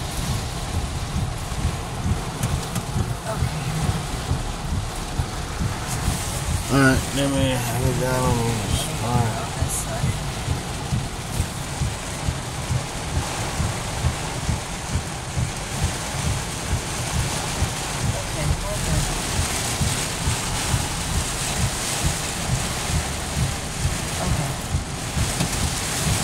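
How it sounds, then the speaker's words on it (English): Steady rain patters on a parked car, heard from inside as a dense, even hiss with low drumming. People talk briefly over it. "It's raining, so you can park anywhere."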